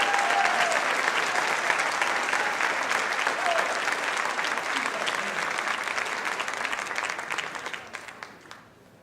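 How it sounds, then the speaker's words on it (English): An audience applauds at a political tour kickoff event, a dense sustained wash of clapping that holds steady for several seconds and then gradually fades out. "You should give yourselves a round of applause."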